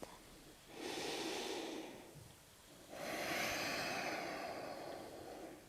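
Two long, deep breaths during a gentle yoga flow, each a slow, airy rush lasting about two seconds with a quiet pause between, close and soft, with no talking.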